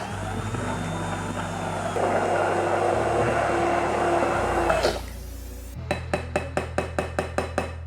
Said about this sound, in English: I'm gonna use my immersion blender to fully incorporate everything.